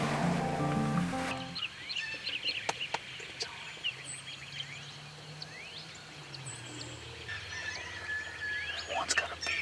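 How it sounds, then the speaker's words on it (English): A wild turkey hen calls outdoors on a hunt, with faint clucks and yelps scattered in the distance over a steady wash of background noise, after a brief louder sound at the start. "There's a hen."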